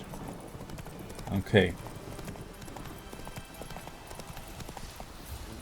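Roach the horse's hooves clip-clopping in The Witcher 3, a steady trot heard faintly behind a brief spoken word.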